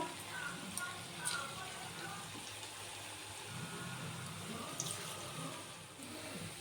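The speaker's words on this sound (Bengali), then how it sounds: "আপনারা দেখতে পাচ্ছেন আমি পকোড়াগুলো খুব সুন্দরভাবে বেজে নিচ্ছি" Cucumber pakoras frying in oil over a low flame, giving a soft, steady, crackling sizzle that stays faint and even throughout with no talking.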